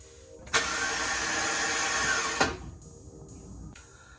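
A starter on a 2013 Ford F-150 with the 5.0 engine fails to engage, giving one loud, steady whirring burst for about two seconds that cuts off sharply. A faint hum lingers afterward.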